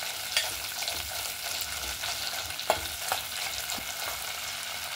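Whole spices fry in hot oil for a mutton curry, a soft continuous sizzle with a few light clicks and pops of stirring, quiet and close.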